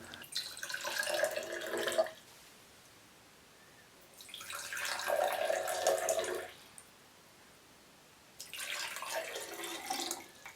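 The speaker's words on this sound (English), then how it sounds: "Pour water into the glasses." Water pours into a glass in three separate bursts of a few seconds each, with quiet pauses between, heard close up.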